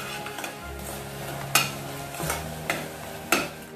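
Carrot halwa with milk powder is stirred and sautéed in a pan, a spoon scraping and clinking against the metal in several distinct strokes over a low sizzle.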